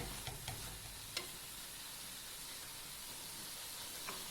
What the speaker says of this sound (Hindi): इसको सारा सारा हिलाते जाएँ,